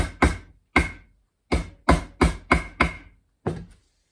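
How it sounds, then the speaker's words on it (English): A small Teflon-tipped hammer taps fret wire into its slot on a cigar box guitar neck, giving eight crisp, close knocks in an uneven rhythm with short pauses between them. "And then I get a little Teflon tipped hammer."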